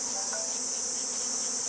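Bees fly around the remnants of a log, making a steady, dense buzzing hum that stays close and continuous throughout.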